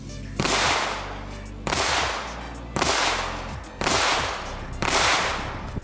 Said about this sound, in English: I'm gonna start out with Fiocchi 115 grain FMJs, and let's see, 5 rounds, downrange, let's see how the Compensator works.